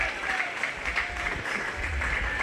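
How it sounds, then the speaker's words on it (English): Audience at a 4-H/FFA sheep and little lambs show gives the kids a round of applause, a sustained patter of many hands clapping with a low rumble and faint crowd noise beneath. "But go ahead and give all those kids a big round of applause."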